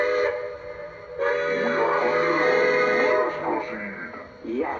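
A steam-style whistle from a Lionel Legacy Halloween F-19 4-6-2 Pacific toy steam locomotive blows in long sustained tones with shifting pitch, fairly loud, briefly pausing before sounding again.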